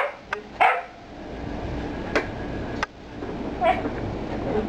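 A few dogs bark in short, separate yips and barks at a house during a family visit in Chile, with several sharp bursts spread across a busy background.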